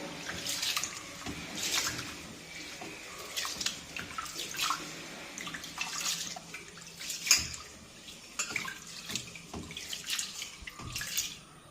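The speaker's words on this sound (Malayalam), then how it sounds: "ഇപ്പോഴും നമ്മുടെ അരിയൊക്കെ കഴുകിയെടുത്തു" Soft, repeated swishes and splashes of two cups of rice being washed in water, with gentle trickles and drips, fairly quiet and close.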